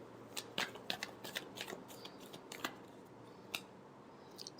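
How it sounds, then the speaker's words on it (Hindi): A tarot deck is shuffled in quick papery riffles and flutters, with sharp card snaps at an uneven rhythm. The sound is close and moderately quiet, and no one speaks. "Last shuffle."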